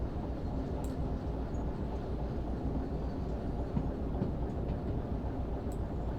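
A very long freight train rolls past in the Derail Valley railway simulator, a steady low rumble and clatter of wheels on track that holds constant for several seconds without a break.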